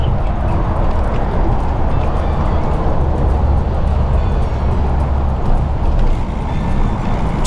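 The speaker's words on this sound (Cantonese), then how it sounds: "除咗出面嘅車嘈之外咧" Traffic from cars and trucks outside, heard while cycling on a rainy day toward Mui Tsz Lam, Hong Kong: a constant loud low rumble and road roar that holds steady throughout, with no talking.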